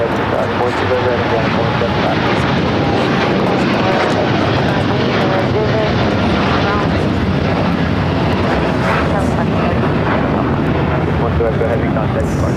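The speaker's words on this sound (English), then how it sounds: "with the Dreamliner taking off" A Boeing 787 Dreamliner airliner takes off at LAX, its jet engines producing a loud, sustained roar that stays close and constant throughout, with a faint voice beneath.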